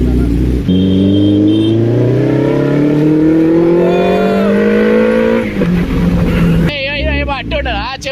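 A Suzuki Hayabusa motorcycle rides at speed, its engine note climbing steadily as it accelerates close by, then dropping as the throttle eases, with wind rush and a voice briefly heard at the end.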